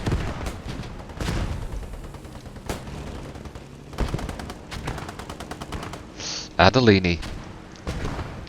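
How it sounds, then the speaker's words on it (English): Artillery strike in a war video game, heavy booming impacts and rapid gunfire crackling through a busy battle soundscape, with a commentator talking over it. "Oh, we got a proper arty strike this time."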